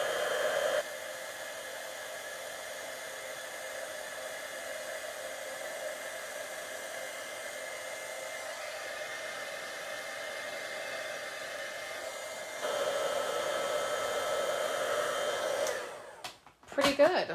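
A heat tool blows steadily over a card-making project, a constant close whooshing drone that runs for about fifteen seconds, rising slightly louder near the end before cutting off abruptly.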